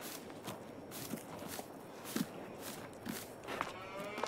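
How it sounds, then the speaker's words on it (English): Low dairy cow moos over a busy farmyard hum, with soft shuffling hoofsteps, fairly close, in the video game Farming Simulator 23. "got some lovely looking dairy cows in here"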